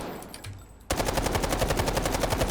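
Rapid automatic gunfire from a weapon in the video game Delta Force, a sustained spray of evenly spaced shots that starts abruptly after a short quiet stretch and rattles on loud and steady.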